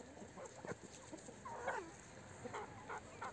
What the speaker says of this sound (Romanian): uitați ce frumos arată așa colorat, mai multe rase de găini, mai multe culori